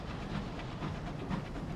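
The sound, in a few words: train locomotive in the video game Sunless Skies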